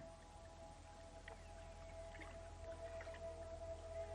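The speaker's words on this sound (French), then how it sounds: "Regardez les dauphins s'exprimer dans toute leur beauté." Dolphin clicks and whistles sound over a steady low hum and underwater hiss, with a sustained tonal whistle running through and scattered short chirps.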